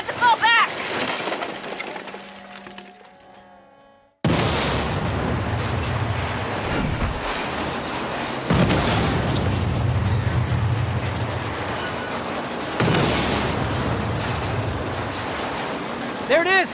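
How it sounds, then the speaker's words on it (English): Explosions in the Saints Row video game during a train robbery, a sustained loud roaring rumble broken into several long booming bursts after a brief quieter stretch with tonal game sounds at the start. "I'm seeing explosions all over."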